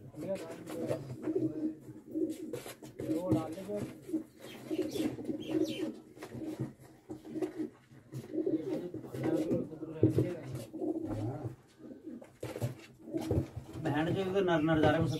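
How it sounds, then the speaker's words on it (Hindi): Pigeons of a good breed, gathered for sale, coo softly and repeatedly in the background while people talk over them almost throughout. "बहुत अच्छी नस्ल के कबूतर आए हुए हैं ये सेल के लिए।"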